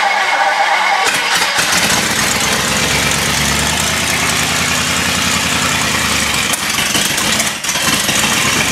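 The Partridge Wagon's engine, running low on fuel, cranks and catches, then rumbles loud and steady for several seconds before cutting out near the end.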